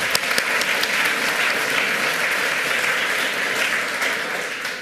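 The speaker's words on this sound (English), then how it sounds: "Please give a warm applause" A conference audience claps warmly and steadily, a dense, even patter of many hands filling the room for several seconds, with no speech over it.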